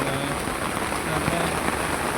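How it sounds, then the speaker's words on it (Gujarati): Heavy monsoon downpour in a village near Bavla, Ahmedabad, a dense, steady roar of rain hitting surfaces close by, continuous throughout with no break. "જો ગાઈસ ધોધમાર વરસાદ પડે છે."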